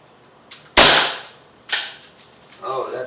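A single sharp shot from an Umarex Beretta APX .177 air pistol fired from about 10 feet, a loud crisp crack with a quick decay, preceded by a faint click and followed by a softer snap of the pellet striking and bouncing back.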